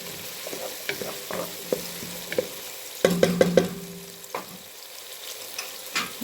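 Minced garlic and onion sautéing in a pan, a low steady sizzle broken by scattered clinks and scrapes of a utensil, with a short flurry of sharper tapping midway, close by and without speech.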